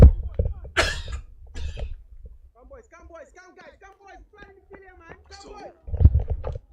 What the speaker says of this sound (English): Beg your pardon, sorry for the coughing.